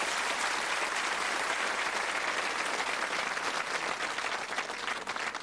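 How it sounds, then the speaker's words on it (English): Dense, sustained applause from a large indoor TV game show studio audience, steady and loud throughout, tapering slightly at the end. "Ladies and gentlemen, give them a nice round of applause."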